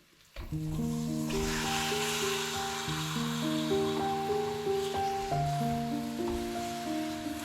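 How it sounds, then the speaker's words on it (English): Pork pieces sizzling steadily in a hot pan over a high flame, a continuous crackling fry with gentle background music, no talking. "Then add the pork pieces and continue to fry on a high flame."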